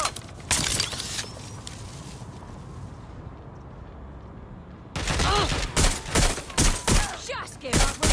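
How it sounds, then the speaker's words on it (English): Gunfire rattles through Watch Dogs Legion combat, with sharp bursts at the start, a quieter stretch of steady noise, then a rapid string of loud shots near the end. "Don't bother hiding! Shots fired! Shots fired!"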